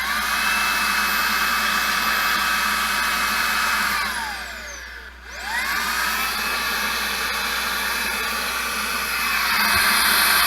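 Makita 18 volt handheld blower running at full power as a loud, close, steady whine and rush of air. Its pitch falls and swoops back up midway, then the sound holds steady again.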